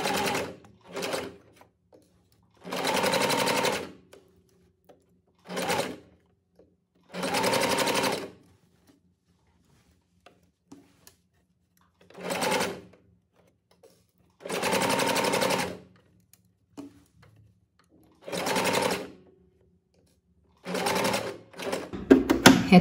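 A sewing machine stitches the shoulder seam of a boat-neck blouse in roughly eight separate bursts of rapid mechanical whirring, each a few seconds long, with silent pauses between runs.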